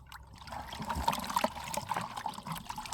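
Water poured over seven freshly caught catfish makes a steady nearby trickle and splash that runs throughout at moderate loudness.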